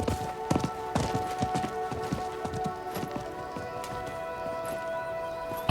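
A merchant's horse in Diablo 4 gallops with a steady rhythmic clatter of hooves over a sustained tonal game ambience, fairly close and without voices.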